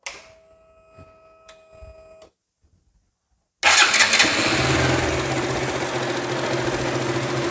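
A KTM Duke motorcycle with a weak battery is started: faint clicks and a brief crank, a pause, then the engine fires and settles into a loud, steady idle.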